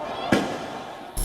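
A sharp bang followed by a hissing, whooshing trail, then another burst of noise; tear gas canisters fired outdoors at a street protest in Hong Kong.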